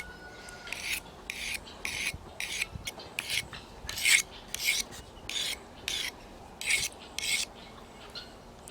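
A knife is drawn repeatedly across a sharpening steel or stone while chickens are being processed, giving about fifteen evenly spaced, close, bright rasping strokes with short pauses between them and no talking.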